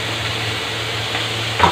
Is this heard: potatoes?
yes